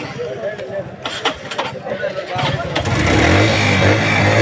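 A used motorcycle at an outdoor second-hand bike market is started, catching quickly and settling into a steady, loud idle, with people talking nearby over the crowd noise of the market.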